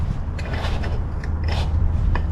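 Half-inch open-end wrench working a tight nut on an airplane bolt during maintenance, giving faint metallic clicks and scrapes over a steady low hum, with no talk.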